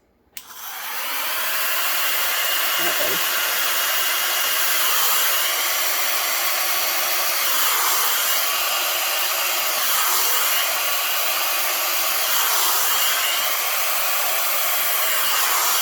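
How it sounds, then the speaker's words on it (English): A hair dryer blows steadily and loudly, a continuous broadband whoosh running the whole time after a brief quiet start. "I'm also practicing using my little hair dryer."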